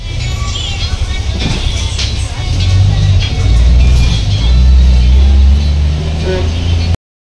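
Interior of a bus riding through Mumbai traffic toward Byculla, a loud steady engine drone that swells as the bus accelerates, with road rumble and faint background voices.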